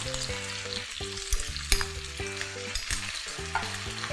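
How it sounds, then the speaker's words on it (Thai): Bacon stir-fried in a wok with garlic, chili and seasonings such as oyster sauce and soy sauce, giving a continuous loud sizzle with steady scraping and clanking of the spatula, no voices. "งั้นเราก็ผัดให้เข้ากันเลยค่ะ"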